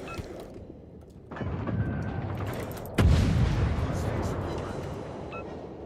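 Naval gunfire in a warship battle game, with a sharp heavy boom about midway over a continuous rumbling background of engine and sea noise, while a player talks throughout.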